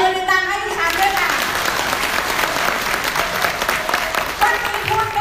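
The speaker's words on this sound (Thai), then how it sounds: "ปรบมือดังๆให้ดิฉันด้วยค่ะ" Audience applause fills a sales seminar for a weight-loss product seller, a dense steady patter of many hands lasting several seconds, with a voice briefly audible at the start.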